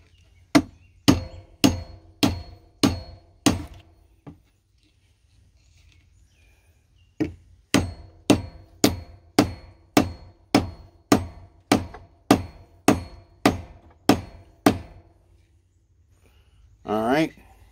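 A hewing hatchet from Evansville Tool Works has its newly fitted handle struck against the edge of a wooden bench, giving two rapid series of sharp, evenly spaced knocks separated by a pause, loud and close with no other sound.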